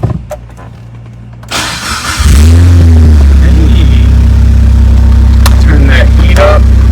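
A Mitsubishi Evo engine starting for the first time after rebuild work on its engine bay: starter whirring, then the engine catching into a loud, steady idle that holds close and strong, with no voices.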